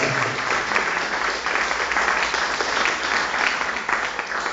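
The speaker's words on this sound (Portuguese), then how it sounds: "Aplaude o Senhor." Church congregation applauding together in a steady, dense wash of clapping that fills the room without pause.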